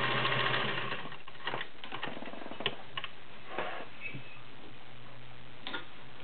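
A vintage Singer 403A Slant-O-Matic sewing machine stitches an arrowhead pattern, giving a close, rhythmic ticking and clattering over a faint motor hum, with no talking.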